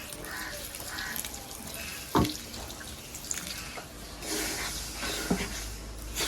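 A small splash of water is poured onto jaggery in a pan, a faint trickling pour with a couple of brief drips and clinks, quiet and close, no voices.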